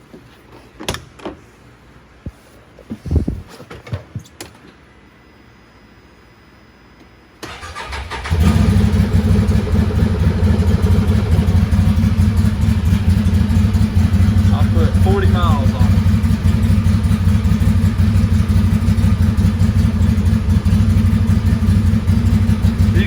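A 2020 Can-Am Maverick Sport side-by-side engine cranks and catches, then settles into a loud steady idle that runs for about fifteen seconds, after a brief spoken line and some handling noises at the start.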